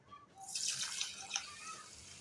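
Water pours from a vessel into raw broken rice in a bowl, a steady close splashing rush that starts after a short quiet moment and continues to the end.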